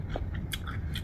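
A bite into a crispy papadum served with mint chutney, quiet close crunches, a few brief crackling snaps in a row.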